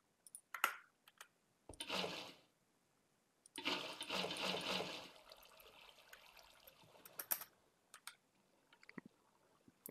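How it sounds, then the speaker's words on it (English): Water placed in a video game, with splashy bursts of flowing, trickling water in separate spurts plus a few clicks, fairly close and alone without talk. "let's put some water down."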